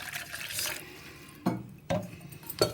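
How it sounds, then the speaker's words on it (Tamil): Water is poured into a bowl of baking soda, salt and chili powder to start a bajji batter, a steady liquid splash with a few sharper splashing bursts, close and alone. "இதில் ஃபஸ்ட்டு தண்ணி ஊற்றி கரைச்சிக்குவோம்"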